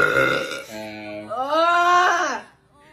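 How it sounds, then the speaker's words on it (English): A long, loud, voiced belch from a young woman, rising and stretching in pitch with a rough, croaky start and a strained tonal middle, close to the microphone and heard alone. "Every time I burp, it's like a different food I've eaten today."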